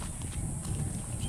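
Hooves of a white horse clip-clop at a walk in a village, a quick series of soft, close hoof knocks over a steady background hum.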